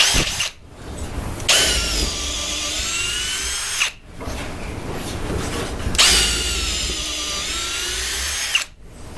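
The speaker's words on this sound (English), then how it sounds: "I'm going to use a 3/8 inch bit. This is Milwaukee's Shockwave Titanium series." Milwaukee M18 Fuel drill driving a 3/8 inch Shockwave Titanium bit through 2x4 lumber in two separate bursts, each a loud sustained whine of a few seconds with quieter pauses between; no voices.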